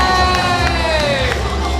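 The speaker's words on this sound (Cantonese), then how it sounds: "俾掌聲！" An audience at a singer's autograph-signing event cheers and shouts with a burst of lively crowd noise, loud and close, with voices mixed into the din.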